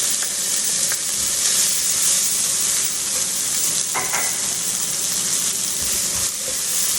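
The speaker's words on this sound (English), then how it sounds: "Now we're going to go ahead and add our garlic in." Garlic frying in a skillet for a pasta dish, a loud continuous sizzle with occasional scraping stir strokes throughout, close and without talk.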